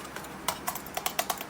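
Typing on a computer keyboard attached to a Pentium III machine during a Linux install: a handful of crisp, separate key clicks at an uneven pace, close and fairly quiet, with no talk.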